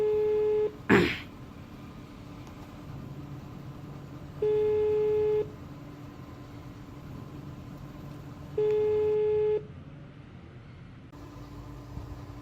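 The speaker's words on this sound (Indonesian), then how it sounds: "Kita telepon deh ya, kita coba telepon." A telephone call rings out as a steady repeating tone burst, with three long beeps spaced about four seconds apart. A brief cough or throat-clear comes early, with a low background hum.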